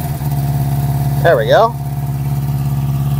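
A 1973 Honda CB350 Four motorcycle engine idles with the choke just turned off, a steady close low putter throughout while someone speaks briefly over it.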